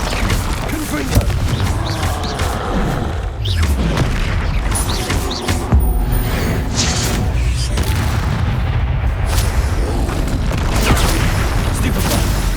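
Confringo spell blasts in the video game Hogwarts Legacy, heavy booming impacts in a dense, continuous battle din, with crashes and explosive bursts layered over one another and a voice heard among them.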